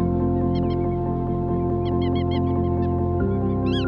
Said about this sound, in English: Every year, ducks, geese and wading birds fly thousands of miles from their homes up in the Arctic to spend winter here.